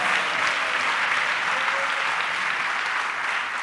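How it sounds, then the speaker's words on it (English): A church congregation applauds steadily, a dense, even wash of many hands clapping that holds at full strength throughout with no talk over it. "Let's clap for Jesus Christ."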